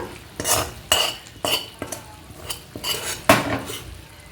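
A spoon scrapes and clinks against a pot while gongura chutney is stirred, with repeated sharp metallic knocks in an uneven rhythm, close and clear with no talk.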